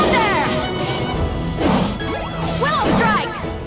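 Howling Thunder attack effect from the Eternal Sonata video game, loud crashing impacts and whooshing bursts layered over swirling battle music, several heavy hits in quick succession.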